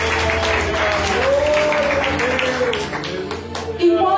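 Congregation clapping at a Pentecostal deliverance church service, with steady applause under ongoing voices and organ-like tones, fairly close and loud throughout.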